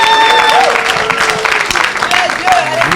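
A church congregation applauds loudly, a dense wash of clapping with excited shouting and voices rising over it throughout.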